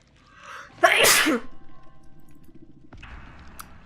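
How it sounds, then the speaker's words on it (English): A single loud, sharp sneeze bursts out close by, followed by quieter rustling and low background noise. "I had to sneeze."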